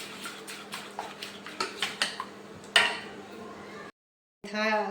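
A spoon tapping and scraping rhythmically in a bowl of dhokla batter, about a dozen light close clicks in a steady beat, then a pause and a brief scrape.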